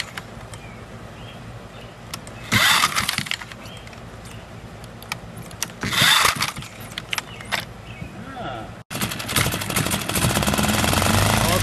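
A Honda 5 hp four-stroke outboard motor runs after an impeller change, giving a steady mechanical drone with louder clattering surges. Voices talk briefly nearby.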